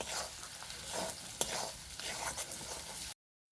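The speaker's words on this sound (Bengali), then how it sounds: "এইভাবে আমি 5 থেকে 7 মিনিট খুব ভালো করে কষিয়ে নেব।" Ginger, garlic and onion sauté with salt and turmeric for a Bengali chicken malai curry, a steady close sizzle with scraping stirs throughout, no voices, ending abruptly in silence.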